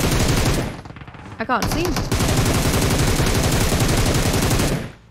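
Rapid automatic gunfire in a shooter video game, loud and sustained in a fast, even rattle of shots, briefly breaking off midway before resuming until a fade at the end, with a short spoken remark over the shooting.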